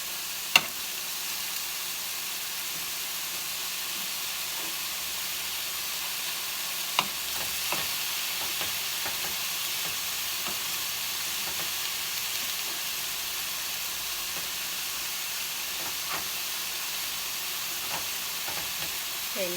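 Ground beef stirred and broken apart in a hot frying pan, steady sizzle and frying hiss throughout with occasional scraping clicks of the utensil, no talking.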